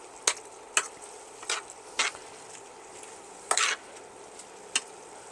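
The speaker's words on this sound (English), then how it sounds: "I'm just going to pull this meat on top, mix it in a little bit, spread it out" A spoon scrapes and pushes meat around a cooking pan in short separate strokes, about six dull scuffs over a soft background sizzle.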